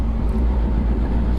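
Motorcycle engine running steadily while riding, a continuous low rumbling drone with road and wind noise, close and even throughout.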